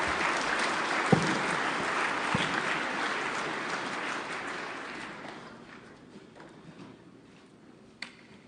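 A crowd applauds a contestant at the 2022 GNCC Senior Finals. A broad, steady roar of clapping gradually thins and fades to scattered claps and room noise, with a single sharp clap near the end.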